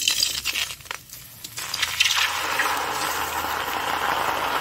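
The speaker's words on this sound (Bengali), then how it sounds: "আমি টমেটোগুলো ওর মধ্যে ঢেলে দিচ্ছি।" Chopped tomatoes tipped into a hot pan, first a few wet clinks and thuds, then a sudden steady sizzle that builds and holds, close by with no talking.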